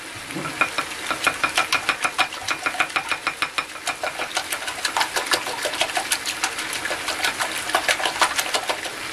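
Four eggs with two tablespoons of water are beaten in a bowl, a rapid, steady run of close tapping strokes lasting throughout, with no talking.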